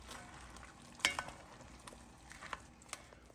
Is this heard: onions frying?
yes